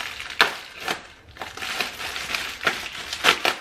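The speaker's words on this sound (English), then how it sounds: "All right, so I got this package from Amazon." An Amazon package being handled up close, its plastic wrapping crinkling and crunching in irregular bursts for several seconds, with no talking.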